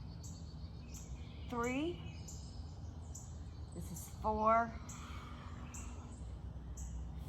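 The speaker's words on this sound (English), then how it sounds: "I'm gonna be quiet so you can hear the birds." Birds sing outdoors in two brief rising chirps over steady background hiss, with faint high twittering between them, while a voice counts exercise repetitions.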